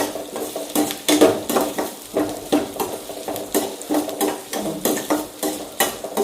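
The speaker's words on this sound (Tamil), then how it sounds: "நம்ம சிம்மில் வச்சு லைட்டாக வச்சு வெங்காயத்தை வந்து அந்த எண்ணெயிலே வேக விடணும்" Onions cooking in oil in a pan for mutton gravy, stirred in a steady rhythm of scraping strokes about twice a second over a soft sizzle, close and clear with no speech.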